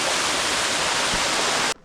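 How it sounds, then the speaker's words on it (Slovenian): Suha waterfall in Bohinj, 70 metres high, pours with a loud, steady white-noise roar heard up close, then cuts off abruptly near the end. "70 metrov je visok slap Suha."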